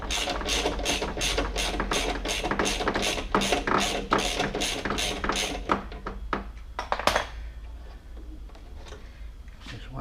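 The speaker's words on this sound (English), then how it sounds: "there are 2 screws here, size 10 bolts, which we need to loosen" A socket wrench works size 10 bolts on a VW Golf 1 window winder mechanism, giving a fast, even train of ratcheting clicks that slows and turns irregular, then fades to a few scattered taps.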